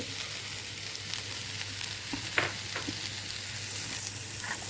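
Grated beetroot and coconut fry in a pan with a steady, soft sizzle, broken by occasional scraping stirs of a spoon, close and fairly quiet with no talk.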